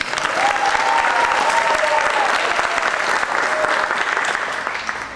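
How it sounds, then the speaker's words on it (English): Steady, full applause rolls through a middle school showcase audience for the choir, continuous dense clapping with a faint whistle or cheer early on, easing slightly at the end. "how about one more round for the choir"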